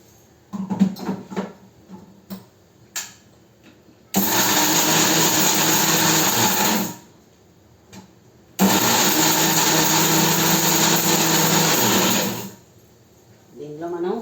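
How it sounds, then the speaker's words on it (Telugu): A mixer grinder blending curry leaves, jaggery, salt and tamarind for a curry-leaf chutney runs in two loud whirring bursts of about three and four seconds, with lid and jar clatter before and between them. "ఇవన్నీ మనం వేసేసుకుని మిక్సీ చేసేసుకుందాం"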